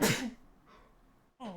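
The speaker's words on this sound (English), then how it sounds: "I need to sneeze again" A single loud, sharp human sneeze bursts out at the start, followed by a brief quiet breath and a short spoken exclamation.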